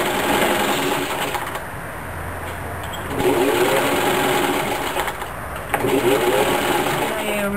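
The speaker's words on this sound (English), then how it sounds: "start sewing the bag in a 1/2 inch all the way around" A sewing machine stitches a fabric bread and snack bag, running in steady fast whirring bursts with brief pauses between runs, close and clear, with a voice speaking over it.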